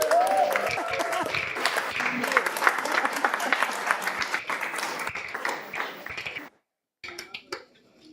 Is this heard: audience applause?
yes